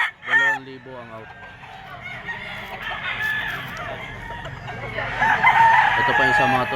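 Gamefowl crow and cluck at a market, including a gray bull stag, as a crow rises near the start and more roosters join in louder toward the end amid crowd noise.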